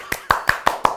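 A few distinct hand claps ring out nearby in an even, steady rhythm, about five sharp strikes within a second, sounding alone.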